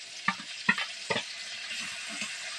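A ground paste of two kinds of mustard, cumin and chili stirred in a hot pan for a Bengali dish, with a few sharp spoon scrapes and knocks over a faint, steady sizzle, close up.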